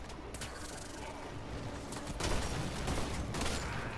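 Gunfire in the sci-fi shooter game Warframe, a steady rattling stream of rapid shots that swells louder halfway through, with no one speaking.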